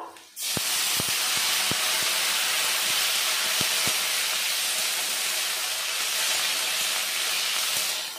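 Cut flat beans drop into a pan of oil with garlic fried until reddish, bursting into a loud, close, continuous hissing sizzle, with a few sharp clicks and taps scattered through it.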